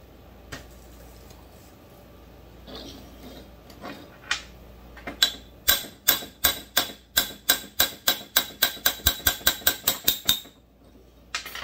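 A small hammer strikes metal on a Pro Mac 700 being torn down for port work, in a steady series of sharp, ringing taps, speeding into rapid rhythmic blows before stopping.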